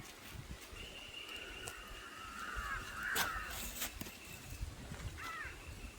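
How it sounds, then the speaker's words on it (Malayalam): A crow in a rural Kerala yard gives a few faint, distant caws over quiet outdoor ambience, with no talking. "ഇത് കാക്ക."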